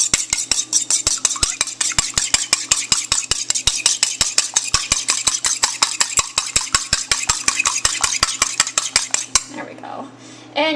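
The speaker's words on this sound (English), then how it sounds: "And you always want to beat your eggs in gluten-free baking." Eggs are beaten briskly in a bowl with a utensil for gluten-free baking, a fast, even run of sharp clinks against the bowl that stops abruptly near the end.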